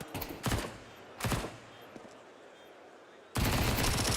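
Counter-Strike rifle fire in a BLAST Open Rotterdam grand final between Team Vitality and Natus Vincere comes as two short, sharp bursts, then a pause. A loud, sustained volley of shots closes the moment.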